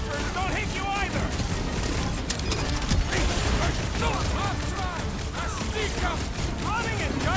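Sniper gunfire crackles in a Guardians of the Galaxy video game rooftop fight, a dense, busy barrage of shots and impacts over game effects, with voices talking over the action.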